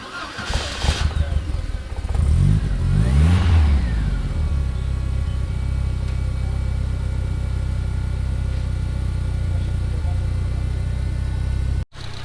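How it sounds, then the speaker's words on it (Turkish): A Ford Sierra Cosworth engine cold-starts with a quick crank, revs sharply a few times, then settles into a loud, steady, lumpy idle close by. "ikinci aracımız da Sierra Cosworth. Şimdi buna da bir cold start verelim."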